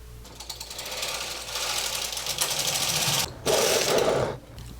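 A Brother 260 bulky knitting machine knitting plain rows of orange yarn, its carriage sliding across in a loud rattling, clattering rush that pauses briefly midway and then makes another pass before stopping.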